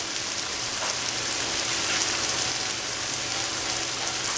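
Butter sizzles and crackles in a hot frying pan, a steady, even hiss of fine spitting that stays constant throughout at moderate level, with no talking over it.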